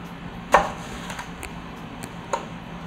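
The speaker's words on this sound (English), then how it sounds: "then we'll take an apple. And we'll just cut it into slices" A knife cuts through an apple on a board, giving a sharp crunchy chop followed by a few softer taps and one more distinct cut, close and sparse with quiet between.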